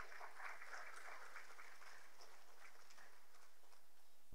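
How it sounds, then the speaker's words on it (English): Parents clap in a steady, moderately loud round of applause at a primary school orientation gathering, filling the whole stretch with dense, even patter and no speech over it. "Please give her a round of applause,"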